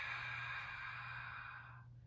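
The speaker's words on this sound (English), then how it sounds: "We create that ujjayi breath by constricting our throat and breathing in and out of the nose." A long, faint breath is drawn through a constricted throat and the nose, making a soft, even, ocean-like hiss that tapers off near the end.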